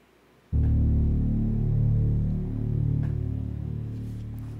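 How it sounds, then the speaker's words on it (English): A low, sustained humming drone made as a game sound effect for a monolith begins abruptly after a moment of quiet, then holds steady and tonal with slow swells in loudness, no talking. "I also have this little drone for this monolith."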